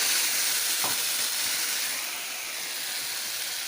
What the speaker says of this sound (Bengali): এই তেলটার মধ্যে আমি টমেটোটাকে দিয়ে দিলাম